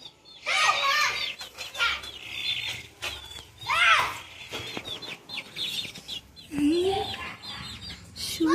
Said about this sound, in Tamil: பாருங்க கோழி குஞ்செல்லாம் இருக்கு.